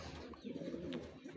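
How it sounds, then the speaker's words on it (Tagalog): Racing pigeon cooing softly at a loft after a training race, a low repeated coo heard faintly against a steady background murmur. "Ayan yung ibon natin oh."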